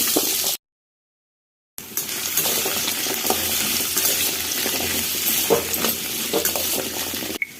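Pumpkin pieces stir-fried in a pan give a continuous soft sizzle with scraping stirring clicks, interrupted by a brief silent gap near the start, close and moderately quiet.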